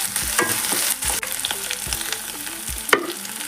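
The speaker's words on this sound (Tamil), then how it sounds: "நல்லா வதங்கட்டும்." Coconut pieces and cashews sauté in a pan for Pallipalayam mutton varuval, sizzling steadily in oil while a spoon scrapes and stirs in repeated strokes, close and clear with no talk.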